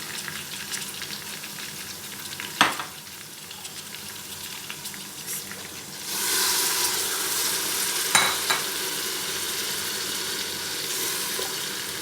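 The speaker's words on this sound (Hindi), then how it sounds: "अब इस मसाले को अच्छे से भून लेती हूँ जल्दी से" Masala with ginger garlic paste, spices and a little water frying in a pan, a steady soft sizzle with occasional scraping stirs and a louder burst of hissing midway, no voices.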